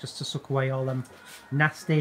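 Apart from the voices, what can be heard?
No distinct noise like a dog, phone or traffic.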